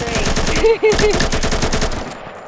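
Rapid automatic gunfire from a weapon in the shooter game Combat Master rattles out in a loud, continuous burst with a brief break near the start, then runs on steadily before tapering off.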